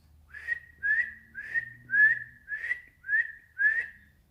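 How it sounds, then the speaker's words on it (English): Seven clear, loud whistles in a steady rhythm, each a short rising-then-level tone, with brief pauses between them and faint low background hum. "whistled loudly 7 times"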